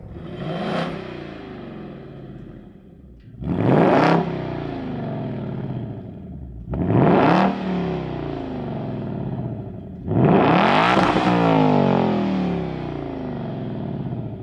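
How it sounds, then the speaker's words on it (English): A Ford Coyote 5-liter V8 engine revs four times, each blip a deep throaty surge that falls back to a rumbling idle between pulls, heard from outside. "It's got this nice like thump to it, this Coyote 5-liter V8."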